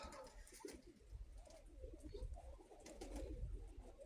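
Domestic pigeons cooing in a loft: soft, continuous throaty coos and murmurs from several birds close by, with faint rustling and background noise and no talking.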